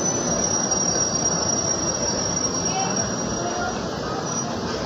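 A stopped or slowly halting suburban train near Barasat gives a continuous, steady high squeal of wheels on rails over a broad rumbling carriage noise, loud and unbroken throughout, with faint talk underneath.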